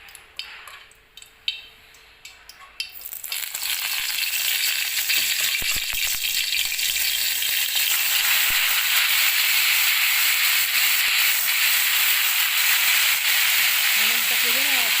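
Mint leaves hit a hot pan after a few quiet clatters, setting off a loud, continuous hissing sizzle that holds steady throughout.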